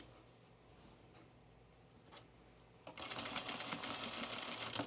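A sewing machine basts a blouse: quiet handling and a brief noise, then at about three seconds the machine starts a fast, even rapid stitching rattle, close and steady until the end.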